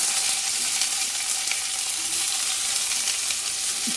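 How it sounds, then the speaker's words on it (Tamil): Fennel seeds and shahi cumin frying in oil in a pan, a steady close sizzle with light stirring throughout and no talk. "இப்போது இது நல்லா ஃப்ரை ஆகிடுது"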